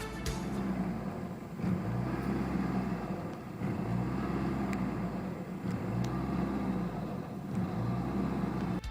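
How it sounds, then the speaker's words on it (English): A Pontiac Fiero engine idles with a rhythmic hunting surge, its revs rising and falling in a repeating cycle about every two seconds, caused by a faulty IAC valve; steady and close with no talk. "A hunting idle will often look and sound like this."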